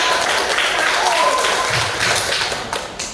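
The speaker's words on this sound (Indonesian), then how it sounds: "tepuk tangan ya untuk kelompok" A classroom of students clapping for a group that has just finished a presentation, a loud, continuous patter of many hands with some faint voices mixed in.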